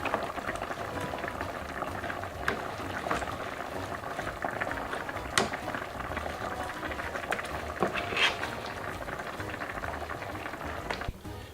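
Homemade tomato sauce simmers and reduces in a pot, a steady close bubbling and popping that runs throughout, with a few sharper pops standing out, and no talking.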